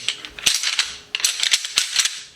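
Sharp clacking and grinding rattles of deer antlers knocked and rolled together to mimic fighting bucks, in two quick bursts, close and bright.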